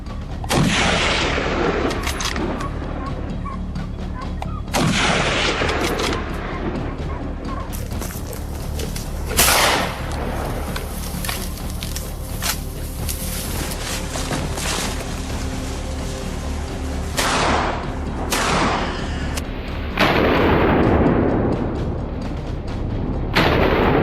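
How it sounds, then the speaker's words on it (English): Dense, continuous gunfire with sharp bursts and heavy booms in a peanut field during a wild boar hunt, loud and chaotic, sustained throughout with no voices. "Each shot was a furious roar, bullets whizzing through the air"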